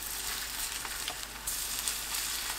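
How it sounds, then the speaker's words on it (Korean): Jeon batter frying in a hot oiled pan over medium-low heat, a steady bright sizzle and crackle close up, with a brief louder burst midway as more batter meets the oil; no talking. "반죽을 둥글납작하게 올려서 노릇하게 부쳐냅니다"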